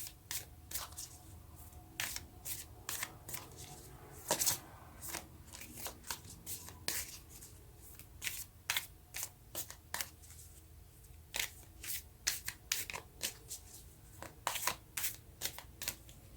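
Tarot cards are shuffled and drawn in quick irregular bursts of crisp riffling and flicking, close and clear in a quiet room.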